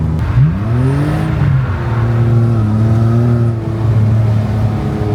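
Drift car engine during a drift training session at Vaison, the car with a temperamental gearbox and clutch, revving up and holding a droning tone that shifts in pitch, loud and close, with no talk.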